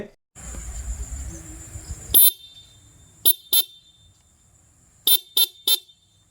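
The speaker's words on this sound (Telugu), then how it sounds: "అలానే సింగిల్ హార్న్ కూడా ప్రొవైడ్ చేశారు. ఒకసారి సౌండ్ వినండి." Short, sharp single-tone horn beeps from a Honda Shine 125 motorcycle: one near the start, a quick pair a second later, then a fast burst of three, each a bright tinny toot in otherwise quiet surroundings.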